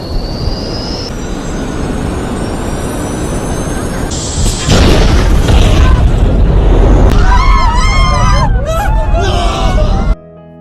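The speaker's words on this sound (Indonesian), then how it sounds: "Dan benar saja pesawat itu pun gagal dan meledak." A film sound effect of an airplane exploding after a failed takeoff: a roaring jet engine with rising whine, then a heavy booming blast and sustained rumbling fire that cuts off abruptly at the end.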